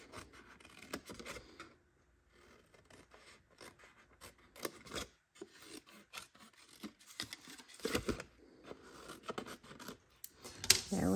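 Scissors cutting the outside corners of a paper treat box, a series of close, soft snips and paper rustles in irregular bursts, with brief talk.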